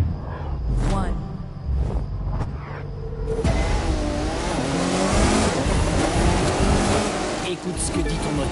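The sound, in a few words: car engine revving in the video game The Crew 2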